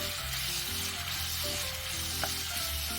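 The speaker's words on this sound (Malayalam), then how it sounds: "ഇനി ഉള്ളി ഒന്ന് മൂത്ത് വരുമ്പോഴത്തേക്കും നമുക്ക് കറിവേപ്പിലയും പച്ചമുളകും ഇടാം." Onions browning in hot oil with curry leaves and green chillies give off a steady, dense sizzle, close and continuous with no talking.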